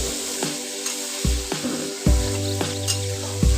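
Spice paste sizzling in a pan while goat meat cooks, a soft continuous frying hiss broken by a few low knocks and clatters of utensils against the pan, close by with no talking.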